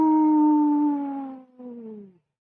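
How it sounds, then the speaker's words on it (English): A long, tonal howl swoops gradually downward in pitch, breaks off briefly, then resumes lower and fades out, loud and alone like a cold wind moaning. "that howl comes from the direction of the arboretum"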